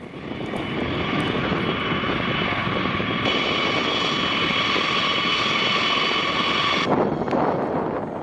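B-52 bomber engines roar in a loud, continuous, even drone that holds throughout with a slight shift in tone near the end.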